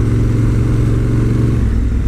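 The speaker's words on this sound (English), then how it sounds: "bike revving a bit because I'm in sports 3" A Honda Africa Twin motorcycle engine in Sport 3 mode holds high revs in a loud, steady drone close by while riding off-road, with no speech.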